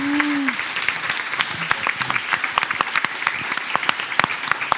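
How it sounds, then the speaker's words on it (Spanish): Sustained applause for four panel speakers at a crime-fiction festival in Cartagena, a continuous crackle of many hands with individual claps popping out, fairly distant and moderate in level, and a brief voice at the start. "démosles un aplauso porque a los 4 se lo merecen"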